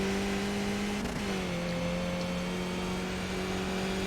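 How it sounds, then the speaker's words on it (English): Skip Barber race car at full throttle on the straight at Virginia International Raceway, a steady loud engine drone from the cockpit with a brief dip as the pitch settles, over constant wind and road roar. "Okay, full throttle for a while down here."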